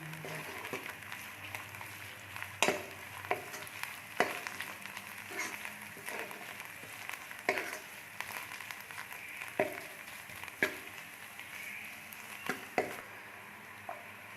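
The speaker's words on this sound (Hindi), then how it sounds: "इसको हम वेस्ट नहीं करेंगे, इसको फ्राई करेंगे तो इसका टेस्ट बहुत अच्छा आता है" Scraped bitter gourd (karela) peel fries in a pan, a soft low sizzle with scattered stirring clicks and taps, quiet and close.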